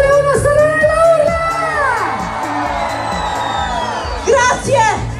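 A large crowd at a town night festival in Stornarella, Italy, shouts and whoops together on cue, loud and sustained with a brief second swell near the end.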